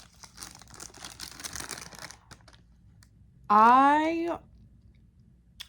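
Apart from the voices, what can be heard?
eating saltine crackers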